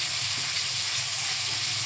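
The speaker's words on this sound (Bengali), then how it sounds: "কালো জিরা ফোড়ন দিয়ে মাছ ভাজা শুরু করেছি।" Bata fish frying in hot oil tempered with black cumin, an even, dense sizzle heard up close for a couple of seconds without any voices.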